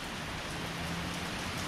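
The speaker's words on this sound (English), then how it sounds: "We got some rain coming down" Steady rain coming down hard on surfaces in the morning, a dense continuous hiss with no breaks or voices.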